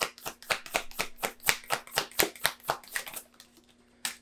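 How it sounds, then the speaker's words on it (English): Tarot cards being shuffled and drawn by hand, a quick run of crisp riffling flicks in steady rhythm, close and fairly quiet, tapering off near the end with one last card snap. "let's get 2 more cards out here."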